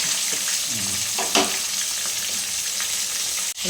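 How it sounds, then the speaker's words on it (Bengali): Steady, loud sizzling of eggplant slices frying in hot oil, a constant crackling hiss with a brief clatter near the end. "বেগুন ভাজার অপেক্ষায়"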